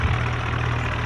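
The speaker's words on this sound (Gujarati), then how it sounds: "હવે આપણે ટ્રેક્ટર લઈ લઈશું. જોન ડીયર લીધો છે." A John Deere tractor engine idles in a video game, a brief steady low drone heard up close with no voices.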